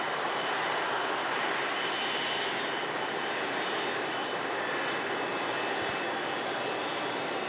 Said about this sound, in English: This Air Transat wants to be in the show. Look at me. What a mega landing.